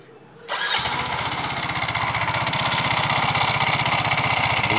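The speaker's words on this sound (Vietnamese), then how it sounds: "Đang bật khóa xe này, xe lô ra nhé, đang bật khóa cho nghe tiếng máy đi" Yamaha Noza scooter engine cranks and catches after a short pause, then settles into a steady, fast putter at idle, close and fairly loud, with no talk over it.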